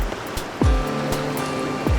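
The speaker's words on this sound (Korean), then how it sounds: "유기물과 플랑크톤을 머금고 밀려오는 파도." Incoming tide waves wash onto a Korean shore, a steady, loud rush of surf with brief surges and thin whistling tones threaded through it.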